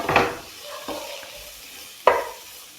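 Long-sliced onions go into a pan and get stirred, with a couple of sharp scraping strokes over a light sizzle, close up and fairly loud, no voices.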